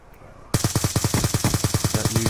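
An AK rifle in the video game Call of Duty: Black Ops 2 fires a loud, rapid automatic burst of about fifteen evenly spaced shots after a short quiet lead-in.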